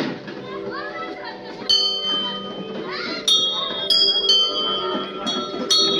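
A small hand bell rings for a Ganpati idol's arrival at a family home, several bright metallic strikes in bursts over steady chatter and children's voices nearby.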